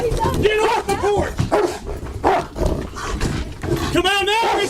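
Police dog barking in bursts during a tense bodycam standoff, loud and close, mixed with shouting and overlapping voices throughout.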